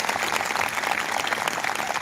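An audience at a church meeting claps together in a dense, steady round of applause lasting the whole moment. The clapping is moderately loud and has no voices over it.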